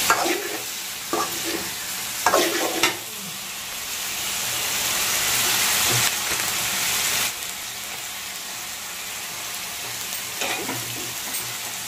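Okra frying in oil in a home kitchen, a steady broadband sizzle running throughout with a few sharper bursts of spatter and stirring, fairly close and moderately loud, no voices.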